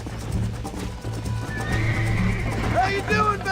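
In the video game Red Dead Redemption, a horse whinnies sharply while hooves clip-clop beneath, close and fairly loud, with someone talking over the animal sounds.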